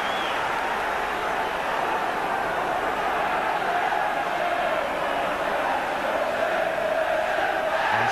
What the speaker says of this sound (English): Once again a packed crowd with supporters in red and in blue side by side